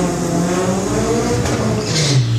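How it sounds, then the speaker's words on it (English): A Mark 1 Scirocco drag car with a 20-valve turbo engine and four-wheel drive accelerates hard at a drag racing event, a loud sustained engine roar with shifting tones that builds steadily over a couple of seconds, with no voices. "Yes, Mark 1 Scirocco, 20 valve turbo, 4-wheel drive,"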